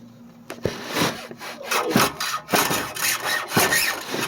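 Close, rhythmic scraping and sawing strokes as a blade cuts through glue inside a Honda Civic EG hatchback door, rough, gritty and fairly loud, with irregular knocks between strokes.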